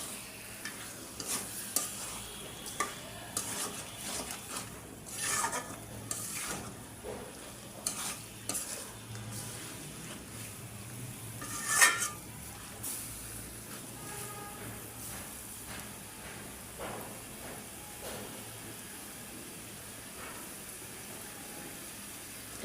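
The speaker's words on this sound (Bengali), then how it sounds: "দেখেন এটার মধ্যে গোস্ত, চর্বি, হাড়ি সব মিশায় রান্না করতেছি।" Goat meat with fat and bones cooks in a pot, giving a steady low sizzle with scattered stirring scrapes and a sharper clatter near the middle, fairly quiet throughout with no talking.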